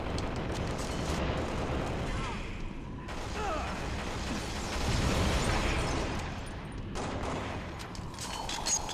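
Grenade blasts and gunfire from a Halo: The Master Chief Collection multiplayer match rumble on as a dense, continuous roar, with heavy booms swelling and fading for several seconds and no clear pauses.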